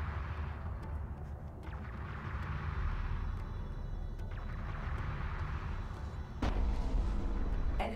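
Artillery fire rumbles through a battle in the real-time strategy game Deserts of Kharak, with dense, continuous low booms, scattered sharp cracks and a heavier blast near the end.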